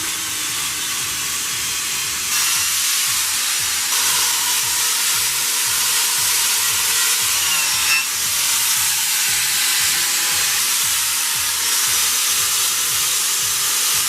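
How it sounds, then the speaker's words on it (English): A continuous loud, harsh whirring hiss of a wire wheel spinning on a drill, grinding steadily against the steel frame of a 1965 Jeep CJ5 with no pauses. "I'm going to take this on the drill and just wire wheel this whole frame up"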